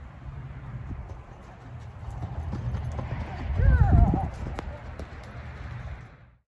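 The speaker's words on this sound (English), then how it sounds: "I'm going to try and get one more good canter step or decent canter step" A Tennessee Walking Horse canters, its hooves giving muffled, rhythmic thuds that swell in the middle and then fade. Birds chirp faintly in the background.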